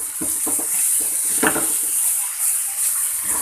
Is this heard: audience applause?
no